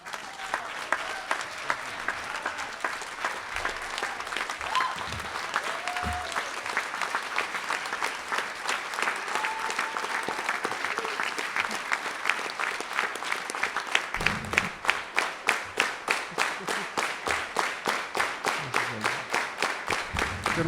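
An audience at a Hispanic heritage observance breaks into sustained, lively applause to welcome a speaker, with dense clapping building toward the end.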